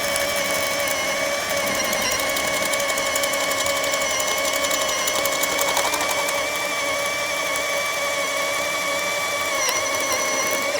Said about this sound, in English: We'll drill some 1-inch holes with these spattle bits from Diablo.